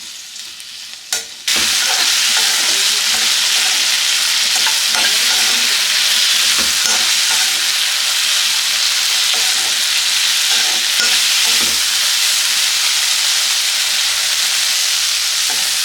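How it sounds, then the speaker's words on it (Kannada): Capsicum fries in hot oil in a pan, a loud continuous sizzle that starts abruptly after a brief quieter moment, with occasional stirring taps throughout. "ಇದನ್ನೆಲ್ಲ ಇದೇ ರೀತಿ ಎಣ್ಣೆಯಲ್ಲಿ ಫ್ರೈ ಮಾಡ್ಕೋಬೇಕು. ಇದು ಸ್ವಲ್ಪ ಸಾಫ್ಟ್ ಆಗೋ ತನಕ ಇದನ್ನು ಇದೇ ರೀತಿ ಫ್ರೈ ಮಾಡ್ಕೊಳ್ಳೋಣ."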